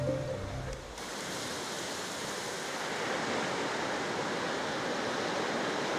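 Ocean surf breaking on the beach at Krui fills the air with a steady, loud broadband roar of rushing foam and water, close and continuous after a brief rumbling swell at the start.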